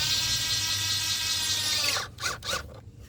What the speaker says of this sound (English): now I'm going to tighten these clamps